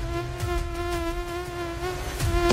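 A mosquito buzzing close and loud in a dengue-prevention announcement, a continuous high whine that wavers slightly in pitch over a low background rumble.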